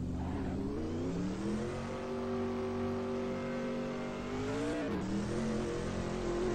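Ford Mustang SVT SCCA race car engine in Assetto Corsa at Sebring, a steady loud idle-to-rev drone that rises in pitch as it pulls away, briefly dropping near the end with a gear change.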